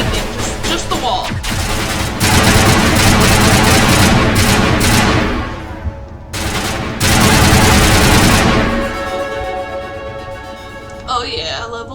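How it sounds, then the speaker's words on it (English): Automatic weapon fire from the Mass Effect video game, as AI enemies spray rounds into a wall: loud, sustained bursts of rapid shots with short pauses between volleys. "Like they're just shooting a wall."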